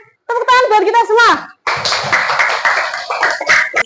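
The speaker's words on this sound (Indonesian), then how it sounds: "Tepuk tangan buat kita semua." Schoolchildren in a fifth-grade class clap together after a teacher's brief spoken call, a dense burst of applause lasting a couple of seconds with voices mixed in.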